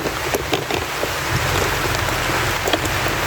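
Steady rain falls in the provinces, a dense, loud hiss of drops hitting surfaces with occasional sharper patters, continuous and close, with no talking.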